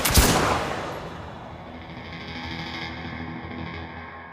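A loud gunshot cracks once at the start of a firing drill, followed by a long reverberating rumble and echo that slowly fades.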